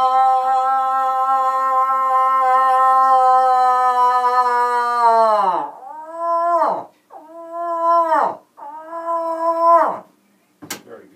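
A voice imitates a female moose call, starting with one long, drawn-out, wavering moan and then breaking into three shorter, falling grunts, with a faint sharp click at the end.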